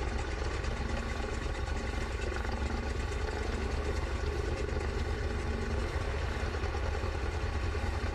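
A Grumman Goose radial engine in Microsoft Flight Simulator fires up and settles into a steady, dense, continuous rumble with broad engine roar throughout, loud and unbroken with no talk over it.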